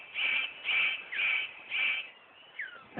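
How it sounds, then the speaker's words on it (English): A male superb bird of paradise gives four harsh, evenly spaced scratchy calls followed by a softer, shorter call, clear and fairly close against a quiet background. "The superb bird of paradise calls to attract the female."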